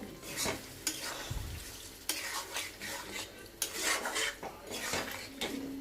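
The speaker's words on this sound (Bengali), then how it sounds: "এটা মশলাটা ঝিঙেটার সাথে কষিয়ে নেবো ভালো করে" Spice masala being stirred and sautéed with ridge gourd in a pan: repeated scraping strokes of a spoon against the metal pan over a steady background sizzle, with clinks at irregular intervals and no voices.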